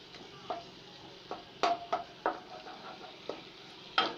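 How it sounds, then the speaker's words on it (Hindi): Soft sizzling of ginger garlic paste in hot oil with intermittent scraping stirs and light clinks of a utensil against a pan, fairly quiet and close. "तेल जब गर्म हो जाए तो उसमें अदरक और लहसुन का पेस्ट शामिल करेंगे।"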